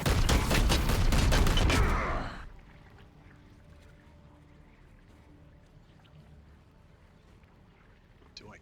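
A loud volley of rapid gunfire in Warhammer 40,000: Chaos Gate - Daemonhunters hammers away for about two seconds and then cuts off sharply. A faint, low background hum remains afterward.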